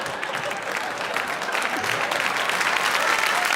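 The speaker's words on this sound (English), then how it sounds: "That's the applause break." Audience at a comedy show breaks into loud, sustained applause, a dense wash of many hands clapping that holds steady and swells slightly toward the end, with faint crowd voices mixed in.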